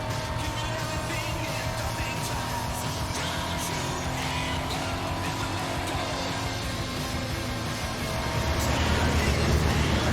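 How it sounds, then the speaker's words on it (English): A 2020 Corvette Stingray races across asphalt through Mexican farmland toward a dust storm in an Xbox driving game, its engine droning and revving continuously with faint tire noise, getting louder near the end. "So now we see the 2020 Corvette Stingray tearing up the asphalt towards a dust storm in the Mexican"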